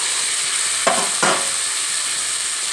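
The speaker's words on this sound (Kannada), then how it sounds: "ಇವಾಗ ಟೊಮೆಟೊ ಸ್ವಲ್ಪ ಪ್ರಮಾಣದಲ್ಲಿ ಫ್ರೈ ಆಯಿತು." Chopped tomatoes and green chillies fry in a pan for a cabbage dish, giving a loud, steady close-up sizzle with two brief stirring scrapes partway through and no talking.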